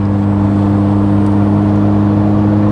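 A Renault R5 Turbo 2 engine runs steadily, a loud, even droning hum with a strong low tone and no speech over it.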